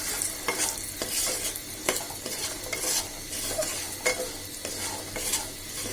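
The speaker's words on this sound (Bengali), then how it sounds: "তেল দিয়ে কুমড়ো গুঁড়িগুলোকে একটু ভেজে নিতে হয়" Pumpkin bori sizzle in hot oil, a dense continuous crackle, while a utensil scrapes and stirs the pan at a steady rhythm and no one speaks.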